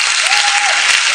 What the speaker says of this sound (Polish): Proszę o brawa dla niego.